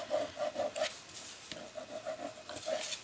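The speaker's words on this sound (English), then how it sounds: "then you can also just burnish the inside just a little bit" Paper inside a handmade gift box is burnished with a few short, rhythmic rubbing strokes, each a soft, close scraping swipe, repeated in quick bursts at low volume.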